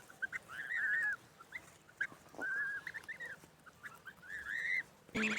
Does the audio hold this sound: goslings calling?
yes